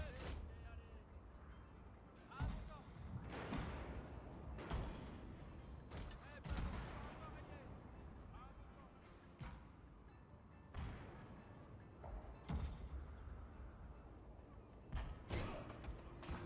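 Ship cannons fire in a naval battle in Total War: Shogun 2, repeated booming shots at irregular intervals, some near and sharp, others duller, with people talking over them.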